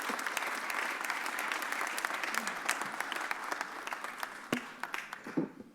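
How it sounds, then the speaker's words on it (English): A crowd at a Philadelphia mayor's press conference applauds City Council President Kenyatta Johnson, steady clapping with sharp individual claps standing out, tapering into scattered claps near the end. "Put your hands together for my partner"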